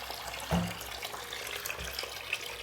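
A hot water tap runs into a sink and drains, a steady close hiss of flowing water with a brief splashy surge near the start.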